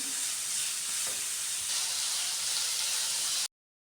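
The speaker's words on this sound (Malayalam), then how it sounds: "ഇനി അതെല്ലാം കൂടെ നന്നായി ഇളക്കി കൊടുക്കാം." Egg roast masala cooks in a pan with a steady close sizzle and faint stirring scrapes for a few seconds, then cuts off abruptly, with no one speaking.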